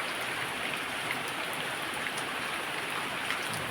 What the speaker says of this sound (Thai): มาเลยฝนมาเลย